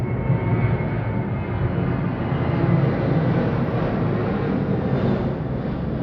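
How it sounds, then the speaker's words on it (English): A fixed-wing airplane flies overhead, a steady broad roaring drone that stays loud and continuous throughout, with no voices. "Wait for the plane."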